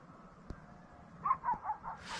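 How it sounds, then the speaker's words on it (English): A dog barks several times in quick succession at a wild campsite in Los Gigantes, Tenerife, in the early morning, sounding somewhat distant and moderately loud against a quiet background. "It's a dog's barking that woke me up."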